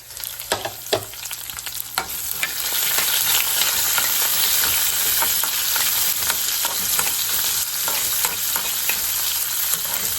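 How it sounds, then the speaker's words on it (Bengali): Ivy gourd and potatoes fry in a pan with a continuous crackling sizzle that grows fuller after a couple of seconds, punctuated by sharp clicks and scrapes of stirring. "আর এদিকে কুঁদরি আর আলু ভাজছি"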